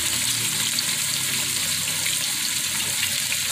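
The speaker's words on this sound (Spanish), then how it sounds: "Acá de este lado está ya la chuleta friéndose" Pork chops fry in a pan over medium-low heat, giving a steady, close, even sizzle and crackle with no talk over it.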